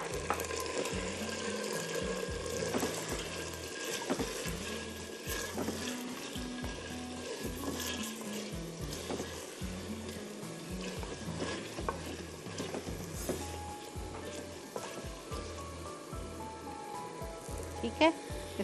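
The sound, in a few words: salt and pepper marinated chicken frying in a pot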